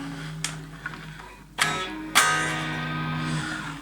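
Electric guitar played through a Fender GTX-50 amp on the Boosted Brit preset, its overdriven notes and chords ringing out with delay repeats and reverb tails, a few picked attacks followed by two stronger strums sustaining alone.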